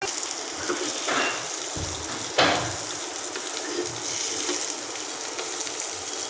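Jackfruit seeds and cut bottle gourd tips fry in a pan with a steady soft sizzle and crackle, with a couple of brief louder scrapes or clatters partway through.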